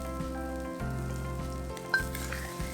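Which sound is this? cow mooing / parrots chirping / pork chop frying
pork chop frying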